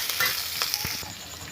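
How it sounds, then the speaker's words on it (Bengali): Chopped onions and garlic sizzle in hot oil in a pan, a close, steady fry broken by a few light stirring clicks. "পেঁয়াজগুলো একটু লাল লাল করে ভেজে নেব"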